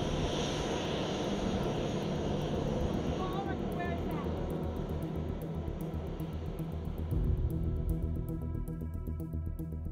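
A P-8 Poseidon maritime patrol aircraft comes in to land, its jet engines producing a steady, loud roar and whine that swells slightly toward the end, with a voice speaking over it.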